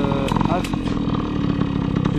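A Tomos moped engine held running on a little throttle, buzzing steadily with a slight rise and dip, close by and partly under a voice talking.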